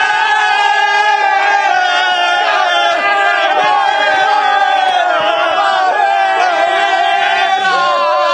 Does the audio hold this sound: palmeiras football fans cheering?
yes